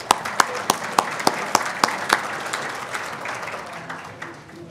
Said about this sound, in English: Let's start by giving yourselves a hand.